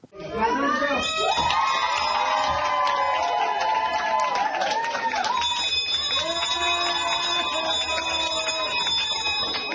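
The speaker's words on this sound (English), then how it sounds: "The bell meant that his treatment was over" A bell rung to mark the end of a patient's medical treatment rings out amid a cheering crowd and shouting children, the noisy celebration continuing loudly throughout.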